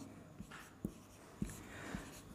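Chalk or marker strikes a board in four separate taps spaced about half a second apart while math is being written out, close and moderately loud with no speech.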